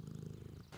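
A cat purrs in the video game Deponia, a soft, low rhythmic rumble that is faint and brief, with a short burst of brighter noise near the end.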